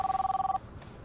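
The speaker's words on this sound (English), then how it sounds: "Oh, my phone." A mobile phone rings nearby with a loud, rapid pulsing electronic tone that stops abruptly partway through, leaving quiet room background.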